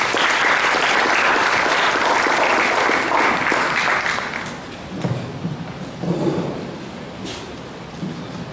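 A graduation audience applauds in a loud, dense burst for about four seconds, then it thins abruptly to scattered claps and a few thuds.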